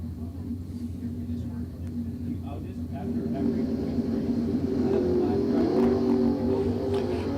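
Drag racing at a strip: a Chevy Camaro and a Barracuda run side by side, a steady roaring engine rumble that swells louder toward the middle and holds, with a voice talking over it throughout.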